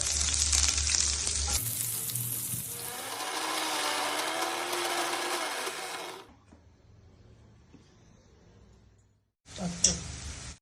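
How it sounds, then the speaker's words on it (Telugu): Curry leaves, coriander, mint and chili fry in oil with a loud, busy sizzle and stirring for several seconds, then near silence before a brief clatter. "కరివేపాకు, కొత్తిమీర, పుదీనా, మిర్చి వేయించుకోవాలి"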